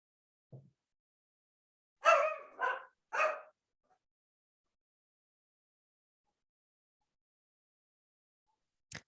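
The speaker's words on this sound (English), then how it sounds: "my dog is going off because evidently some young parent is pushing their baby in a stroller" A dog barks at a young parent pushing a baby past in a stroller, giving a quick burst of three sharp barks at close range, then silence broken only by a brief faint sound at the end.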